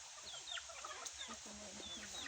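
A labuyo jungle fowl rooster clucks softly in a few short, faint calls with other bird chirps around, quiet and somewhat distant.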